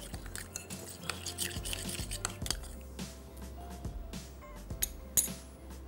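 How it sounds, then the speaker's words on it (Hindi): Chicken being mixed with salt, turmeric and spices in a bowl: soft stirring and squelching with repeated clinks of a utensil against the dish, close and fairly quiet, no talk. "अब ये तमाम चीज़ें बहुत अच्छी तरीके से आपने मिक्स करनी है।"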